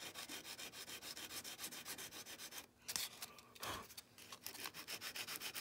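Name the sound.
sanding wood with 120 grit open-grain sandpaper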